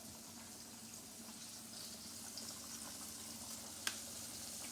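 Continuous crackling sizzle of fresh pork side bacon frying in a pan, steady and close, with one sharp clink near the end.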